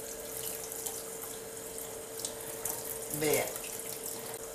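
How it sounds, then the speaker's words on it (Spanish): Tap water runs steadily into a sink while salted cod fillets are rinsed under it. The flow is quiet and close, with a brief spoken word and a small splash partway through. "Vamos a proceder a lavar el bacalao"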